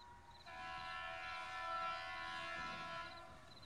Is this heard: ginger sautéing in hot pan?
no